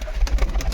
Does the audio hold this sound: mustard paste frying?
no